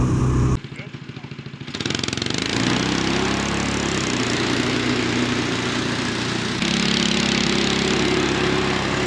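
A cheap homemade kid-safe snowmobile runs with a steady, buzzing small-engine drone through a snowy ride, close and continuous after a brief idle start.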